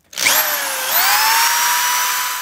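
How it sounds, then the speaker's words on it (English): A power drill bores holes for metal tapping screws while patching holes: the motor whines up and runs steadily at high pitch, loud and close, with no talking. "So I'm just gonna go ahead and drill my holes."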